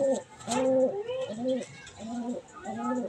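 A hen pigeon coos in soft, repeated rolling phrases, close and fairly clear against a quiet background, with a faint higher chirp near the start.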